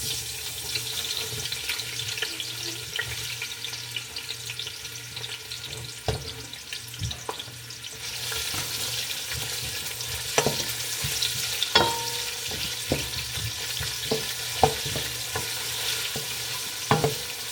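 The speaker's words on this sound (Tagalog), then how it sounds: "Mainit na yung ating mantika. Lagay ko lang yung aking sibuyas." Onions fry in hot oil in a pan, giving a steady, moderate sizzle broken by scattered clacks of stirring and a faint wash of running water.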